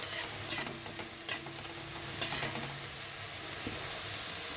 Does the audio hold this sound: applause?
no